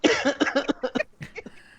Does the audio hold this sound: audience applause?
no